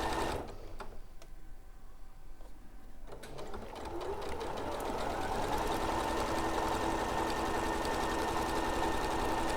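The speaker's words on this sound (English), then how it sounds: "moving your needle position on your machine using the stitch width button while it's sewing in a straight line" A sewing machine stitches in a straight line, starting after a few faint clicks and settling into a steady, fast mechanical whirring that runs on evenly and close up.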